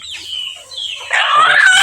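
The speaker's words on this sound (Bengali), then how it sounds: "আজকে বাড়ির এই দেশি মুরগি" Desi chicken at home clucking and calling, a close, loud bird voice that grows denser and more insistent in the second half of the short stretch.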